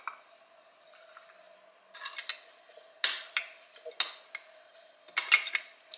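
A spoon stirs chia seeds and milk in a glass, giving irregular clinks and scrapes against the sides, close and fairly quiet, with a steady faint hum underneath.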